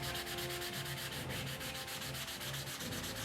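EVA foam being smoothed by hand with 220 grit sandpaper, a steady close rasping rub repeating in quick even strokes throughout, with no voices.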